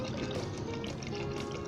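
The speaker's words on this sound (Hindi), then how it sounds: "2 गिलास पानी डाल देने हैं" Water pours steadily from a glass into a pot of chickpeas being prepared for Punjabi-style chhole, a continuous close splashing with no talking.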